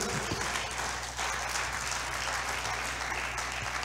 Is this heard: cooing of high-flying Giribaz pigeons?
no